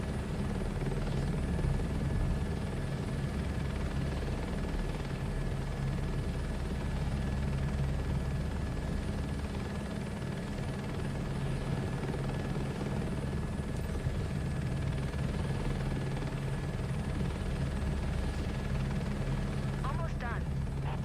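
Helicopter flying in Microsoft Flight Simulator 2024 during VR crop dusting, a steady loud rotor and engine drone that runs unbroken throughout, with a person talking over it.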